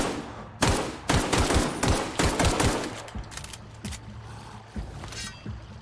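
Video game gunfire in a combat scene: bursts of rapid shots, loud and close, trailing off into scattered single reports with no talk.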